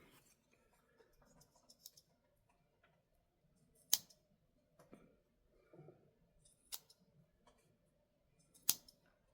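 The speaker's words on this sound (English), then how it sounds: "No problem at all with the 550 cord. Cut through that nice and easy." A knife slicing through 550 paracord: a few sharp, quiet snips and clicks at intervals over near-silence, each one brief and close.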